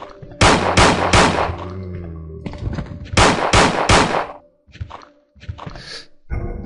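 Bursts of rapid automatic gunfire in the video game Resident Evil 2, loud and close, with two long volleys and a few shorter shots and thuds in between.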